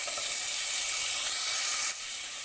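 Diced carrot hits a hot pan while egg fried rice is being cooked, giving a steady bright sizzle and hiss that drops off slightly near the end, with no voices.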